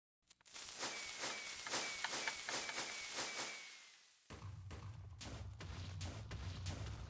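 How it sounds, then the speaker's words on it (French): TNT explodes into fireworks in the Minecraft video game, a rapid burst of crackling pops and booms in quick succession, followed by a denser rumbling stretch of further blasts. "ça fait des feux d'artifice pas très colorés"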